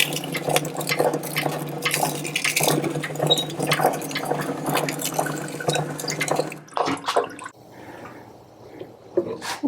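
Sugar cane juice pours steadily from a juicer in a continuous liquid stream with dripping, the flow close and fairly loud, then thinning out into sparse drips and splashes near the end; no one speaks.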